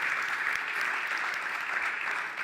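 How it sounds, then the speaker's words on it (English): A conference audience at CDays claps in a steady, even round of applause that stays level throughout, moderately distant with no voices. "You can applause, you can applause."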